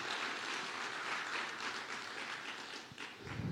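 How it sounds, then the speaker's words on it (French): Audience applause, a full continuous wash of clapping from a gathered crowd that holds steady for several seconds before trailing off. "pourquoi pas vous donner une bonne main d'applaudissement?"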